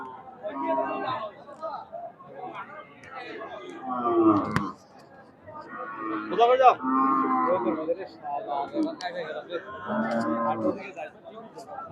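Several cows and heifers at a cattle market moo loudly in long, drawn-out calls, close by, with people chattering in the background between and under the lowing.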